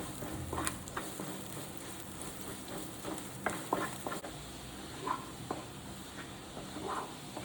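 Finely chopped garlic sautéing in butter in a pan, a continuous soft sizzle broken by scattered stirring scrapes and taps, fairly faint and close, with no talking.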